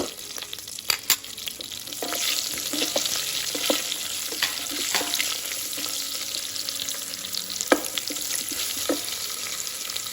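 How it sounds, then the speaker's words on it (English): Onions and green chili fry in a pan with a steady, close sizzle, broken by scattered clicks and scrapes of stirring. "So now put onions, ginger garlic paste, onions and green chili, and fry for a little bit."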